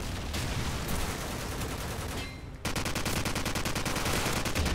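AK-47 automatic fire in a Call of Duty game, loud and nearly continuous rapid bursts, with a brief drop in level before the shooting resumes at full volume.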